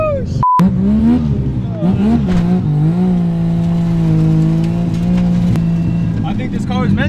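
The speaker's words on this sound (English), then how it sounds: "I think this car is meant to be a burnout car." A triple-turbo three-rotor widebody Mazda RX7 doing a burnout on the street, its engine roaring loud and close in a sustained high drone with dips in pitch, while tires squeal and shred continuously throughout.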